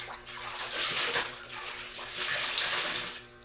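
Tap water runs steadily into a basin or tub for hand-washing laundry, a continuous close splashing hiss that swells and eases slightly without pause.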